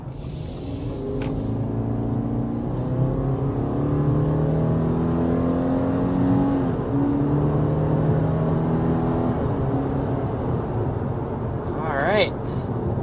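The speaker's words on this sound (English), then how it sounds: "there was an acceleration up to about 60 miles per hour in the 2023 Forester" A 2023 Subaru Forester accelerates to about 60 mph, heard from inside as a steady engine drone with rising, stepped tones through the gears, continuous and fairly loud, with a brief higher whine near the end.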